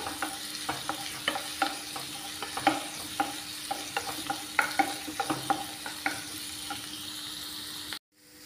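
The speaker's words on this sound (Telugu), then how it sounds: "మంచిగా బ్రౌన్గా అయిపోయిన వేయించుకోవాలండి." Chopped ingredients for a gobi curry sizzle in a hot pan as they brown, with a steady frying hiss punctuated by regular close scraping taps from a stirring spoon.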